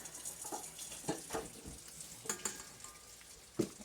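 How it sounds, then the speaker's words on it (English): Spoon stirring carrot cake batter in a bowl after salt is added, producing soft irregular scrapes and taps against the bowl's sides, close and fairly quiet with no voices. "we're going to mix this one more time before we add in our flour"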